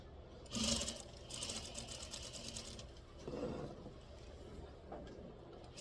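A sewing machine runs a basting stitch along a collar stand seam, a steady mechanical whir in short bursts with brief pauses between runs, close and moderately loud with no talking.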